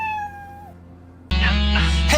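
A cat meows in a short series of clear, fairly loud calls; a tonal cry trails off, then after a brief pause a louder, broad burst of meowing follows, with no talking.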